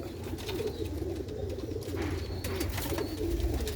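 Young Sialkoti rooftop pigeons coo softly and continuously, low murmuring calls layered over a steady background rumble with some faint higher chirps.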